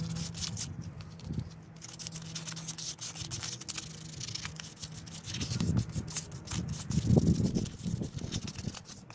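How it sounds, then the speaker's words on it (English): Painted aluminum wheels from a 1977 C3 Corvette get scuffed by hand in short, rasping strokes, with soft rubbing that builds into louder, rougher bursts near the end, close up. "Now I'm going to scuff up that paint in the middle just a little bit."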